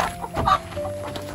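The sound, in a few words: chicken clucking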